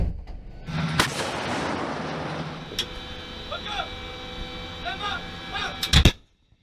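A US self-propelled howitzer fires with a heavy, booming blast near the start, followed by a long rumbling decay, mechanical clanks and a second sharp report near the end, with vehicle noise underneath.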